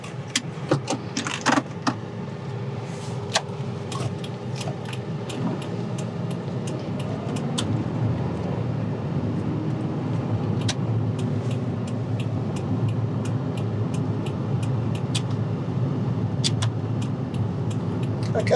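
A car pulling away during a driving test, with a steady engine and road hum inside the cabin and occasional small clicks and rattles, no talking.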